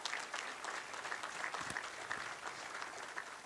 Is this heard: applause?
yes